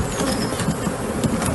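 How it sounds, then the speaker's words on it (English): Loud, dense buzzing of a swarm of honeybees close by, a continuous droning hum with no voices. "we've just got to put the bees in"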